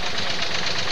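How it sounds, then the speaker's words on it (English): A Shepherd diesel tractor rolls along in a street parade, its engine knocking in a rough, rapid, even chug that stays loud and close for the whole moment. "It's a Shepherd diesel tractor from Custer's of Mansfield."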